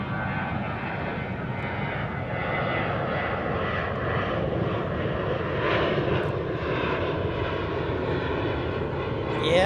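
Air Force Two, a C-32 jet, at DFW airport, its engines a steady broad roar that holds at a moderate distance without fading, with no one talking.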